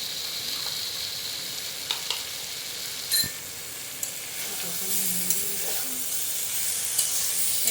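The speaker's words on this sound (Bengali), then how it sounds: "একটু সামান্য নাড়াচাড়া করে কষিয়ে নেব মশলাটা আলুটাকে দিয়ে" Potato and spice masala sizzles steadily in a pan under a continuous frying hiss, with occasional scrapes and clinks of a spoon being stirred through it.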